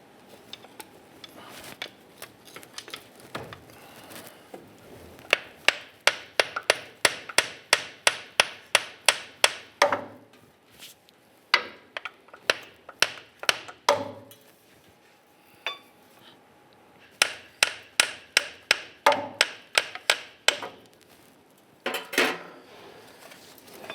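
A pry bar works a front CV axle out of the differential of a 1995-2001 Ford Explorer, making sharp, rapid metallic clanks in fast bursts of repeated strikes with short pauses between them, close and clear.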